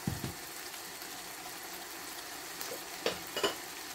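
Beef meat sauce is stirred in a pan, giving a soft steady sizzle with a few brief scraping clicks of the spoon, fairly quiet and with no voices.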